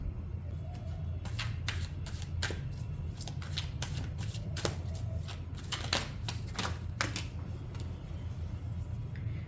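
Tarot cards are shuffled by hand in quick, crisp riffling bursts, close and clear against quiet background hiss.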